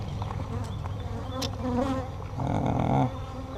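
Honeybees swarm in a dense, continuous buzz close around an open hive during an inspection, swelling louder for a moment before easing back.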